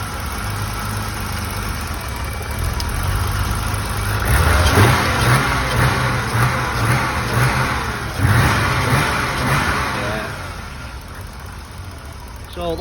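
A BMW 635 CSI engine with a faulty idle regulator and a loose air mass meter lid idles, then is gently revved in pulses, a rough mid-pitched running sound that rises and falls, close by.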